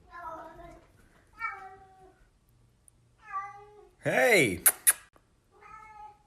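A house cat meows repeatedly indoors, a series of close, distinct, rising-and-falling calls with pauses between, mixed with a shout and a sharp squeal from a person partway through.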